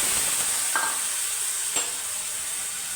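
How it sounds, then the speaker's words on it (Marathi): Chard greens are stir-fried in a pan with a steady bright sizzle, while a spatula scrapes through them twice with short, distinct strokes. "चांगलं परतवून घ्यायचं आणि त्याच्यामध्ये टाकायची ही हिरवीगार अशी चाफू"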